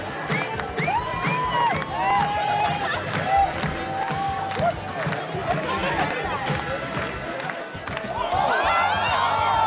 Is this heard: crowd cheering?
yes